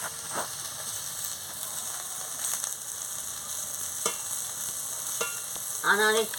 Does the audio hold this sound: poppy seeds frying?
yes